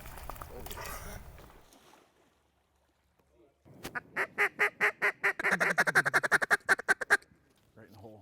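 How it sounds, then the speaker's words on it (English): Mallard ducks in flooded timber in Arkansas give a loud, rapid run of repeated quacks close by, about a dozen calls in quick rhythm, following a stretch of rustling noise and a brief quiet. "Finally timber ducks."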